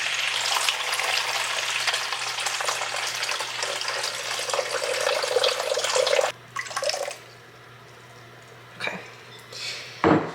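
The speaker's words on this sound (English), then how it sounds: "So 650 grams of water." Water poured into a bowl for sourdough bread dough, a steady broadband splashing stream for about six seconds that stops abruptly, followed by a few brief clinks of dishes nearby.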